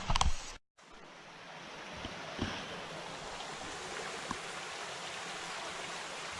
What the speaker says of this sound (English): once we get going down this trail, we see that there is a creek